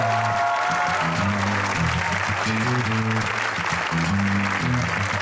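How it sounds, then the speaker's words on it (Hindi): An audience applauds for a band, a steady wash of clapping layered over loud, rhythmic band music with a prominent bass line. "तालियां बजाइएगा और बजाते रहिएगा"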